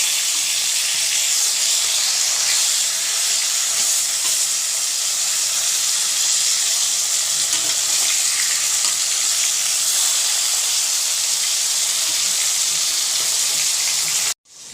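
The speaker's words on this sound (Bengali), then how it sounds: "এভাবে তিনটে মাছ ভেজে তুলে নিয়ে আমি কড়াইতে আরও তিনটে মাছ ছেড়ে দিয়েছি" Fish pieces frying in oil in a wok, a loud, steady, hissing sizzle that carries on unbroken at close range before cutting off at the very end, with no talk.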